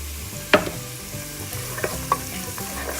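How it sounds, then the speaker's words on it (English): Chopped celery and carrots cooking in a soup pot for minestrone, a steady moderate sizzle with a few sharp clacks of a spoon stirring, no voices. "next going in is the celery and carrots. We're gonna cook these like 3 to 5 minutes"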